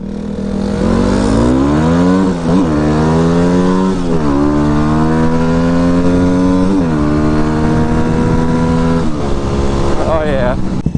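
Yamaha WR250R motorcycle, a 2008 model, revving hard through rising gears in a quick race, loud and close, with each upshift dropping the engine pitch before it climbs again, and a final sharp rev at the end.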